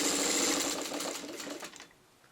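A sewing machine stitches a 4.5-inch quilt block square within the seam allowance, a steady close mechanical whir that slows and stops after about two seconds.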